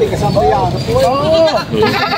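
A large Tagalog goat bleats repeatedly at a livestock market in Padre Garcia, Batangas, several wavering calls close by over a steady hubbub of crowd chatter.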